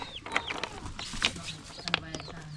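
Chickens clucking and calling in short bursts around a farmyard, with a few sharper squawks, moderately close over light background noise.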